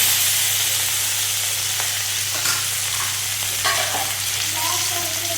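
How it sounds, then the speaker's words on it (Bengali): A single piece of fish frying in a pan makes a continuous, loud sizzle, with occasional stirring and spatula scrapes close by and a low steady hum behind it. No one speaks. "আমি আমার ছোটো বোনের জন্য এক পিস মাছ ভেজে নিচ্ছি"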